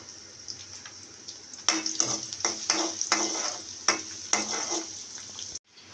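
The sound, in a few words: chopped garlic frying lightly in oil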